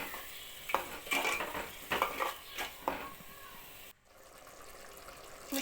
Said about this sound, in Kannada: ಪಾತ್ರೆಗೆ ಹಾಕುವ. ಮಿಕ್ಸ್ ಮಾಡ್ಕೊಬೇಕು ಇವಾಗ ಕ್ಲೀನಾಗಿ.